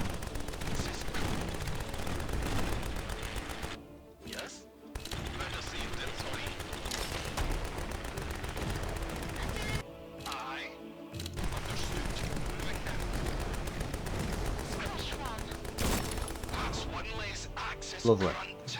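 Dense, continuous gunfire from shooting at incoming enemies in the video game Grit & Valor 1949, loud and sustained with brief pauses, mixed under a talking voice throughout.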